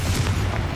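A Confringo explosive spell in Hogwarts Legacy on PC, a single short, loud, deep booming blast with a rumbling tail.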